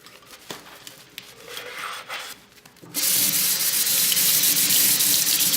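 Tap water gushes steadily into a blender jar being rinsed, a loud continuous rush that starts abruptly after a few seconds of quieter rubbing and clinking.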